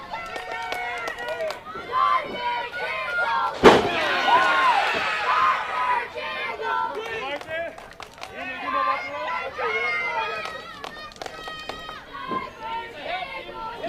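Children in the crowd at an outdoor live wrestling show at Lakefest in Jamestown, Kentucky, yell and chatter at a wrestler, with a sharp slam from the ring partway through and a commentator talking over the noise.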